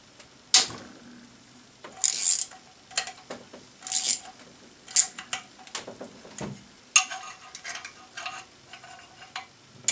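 Metal tools work on the valve adjusters of an Intek Edge engine, giving a series of irregular clicks, scrapes and light metallic taps, close and moderately quiet, with no talking.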